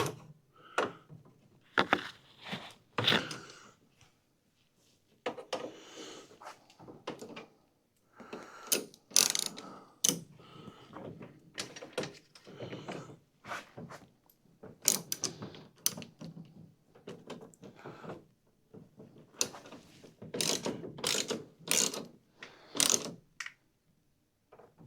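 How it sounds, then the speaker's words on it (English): Hydro pump bolts being tightened by hand on a Toro or Exmark zero turn mower, a quiet series of irregular ratchet clicks and metallic mechanism rattles in short bursts with pauses between. "Let's get this tightened up."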